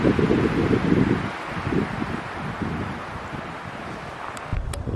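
Wind gusting through pitch pines and Atlantic white cedar in a pine barrens forest, a steady loud rush with rustling needles and some buffeting on the microphone, no talk.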